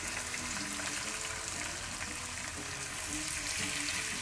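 Beef bacon strips sizzle in a skillet with a continuous, crackling hiss that holds at a steady level, fairly quiet overall.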